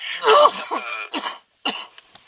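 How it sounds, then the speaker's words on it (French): A harsh cough followed by a couple of throat-clearing rasps, close and loud, with brief pauses between bursts. "oui, je tousse, excusez-moi"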